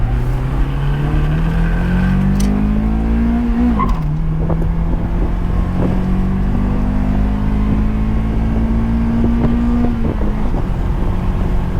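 A 1996 Acura Integra GS-R engine revs into VTEC while driving. The engine note climbs in pitch twice, dips briefly between the pulls, and stays loud and close, with wind rushing over it.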